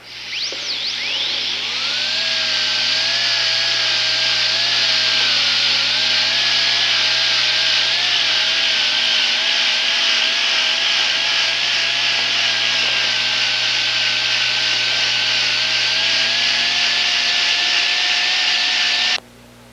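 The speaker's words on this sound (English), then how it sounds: "now I have completed my polishing using only the Sure Shine" A rotary Robinson wheel loaded with Sure Shine polishes a gold dental restoration, giving a steady, loud high-pitched whine with a slight wavering pitch that runs unbroken for nearly twenty seconds before cutting off.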